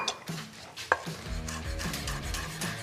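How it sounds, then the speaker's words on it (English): A knife chops fresh parsley on a cutting board, with a few isolated taps followed by a quick, steady run of close, crisp chopping strikes. "Chop the parsley."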